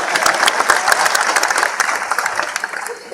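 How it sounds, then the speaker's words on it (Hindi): Applause from a crowd at an election campaign rally in Gulbarga: dense, loud clapping that holds steady, then eases off slightly toward the end. "कम से कम उन्होंने तो तालियां बजाने दो"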